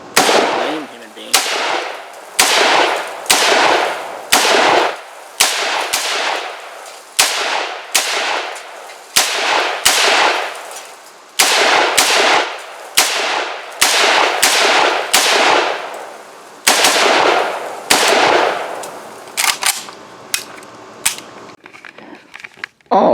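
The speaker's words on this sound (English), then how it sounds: "SLR106CR again. This time I'm not going to try bump firing it. I'll shoot it like a human being." An Arsenal SLR106CR AK-pattern rifle chambered in .223 fires about twenty loud, sharp single shots in an uneven rhythm, each crack ringing out and decaying before the next, with faint handling noise at the end.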